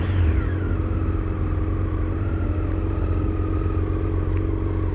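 A motorcycle engine idles and revs close by, a steady throbbing rumble with a rising pitch sweep at the start, holding loud and continuous throughout.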